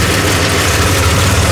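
Thresher engine idling during paddy threshing, a loud, steady low rumble with constant vibration and no audible start-up within the stretch, and no talking.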